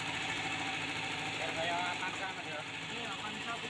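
A steady engine idles with a continuous, slightly rough drone while the throttle setting is being adjusted, and someone talks over it throughout.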